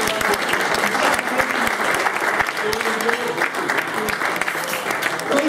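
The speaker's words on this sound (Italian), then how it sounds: "Un applauso al sindaco." An outdoor audience at the Orvieto food festival applauds the mayor with a loud, sustained burst of many clapping hands, with faint voices mixed in.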